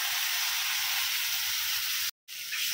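Tomato, turmeric and mustard paste fry in a pan with a steady, bright sizzle held close, briefly cut to silence near the end before the hiss returns.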